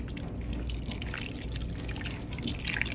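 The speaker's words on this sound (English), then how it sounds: "the braising sauce that we made, I'm gonna pour it right over" A soft, steady trickle of braising sauce pours and splashes close up over food in an Instant Pot, with faint wet dripping, no voices.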